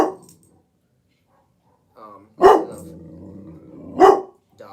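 A dog barks twice, loud and close, with a low growling whine between the barks, following a brief bit of talk at the start.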